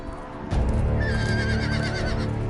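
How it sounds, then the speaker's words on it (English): A horse whinnies loudly over a dense, rumbling Game of Thrones video game soundscape, the neigh rising and wavering briefly above the background din. "Watch out for those horses, man."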